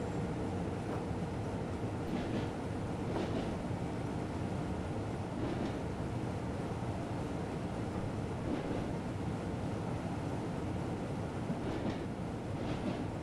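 A train rumbles steadily past in Train Simulator 2017 on the Köln–Koblenz line, with a continuous dense roar and faint rhythmic clatter of wheels throughout, loud and close with no talking.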